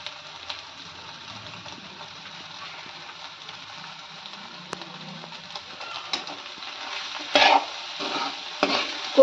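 Spatula stirring chopped coriander through egg bhurji frying in oil in a pan, a steady soft sizzle with scraping strokes and a few louder clatters near the end, no talking.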